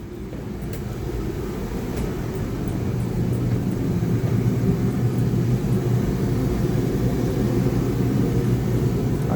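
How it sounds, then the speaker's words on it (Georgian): A steady, low mechanical roar of an oil furnace burner running continuously, with a constant rumble and no voices. "თვითონ გამათბობელი მუშაობს"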